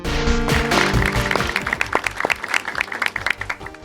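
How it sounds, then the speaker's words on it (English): Live audience applause during a podcast recording, a loud burst of clapping that thins out into scattered individual claps over a few seconds. "Yeah, the applause, they sound great on air, so we really appreciate that."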